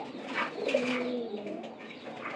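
Pigeons in a new house bedded with fresh straw coo softly and steadily, a low rolling murmur that runs throughout at close range with no talk.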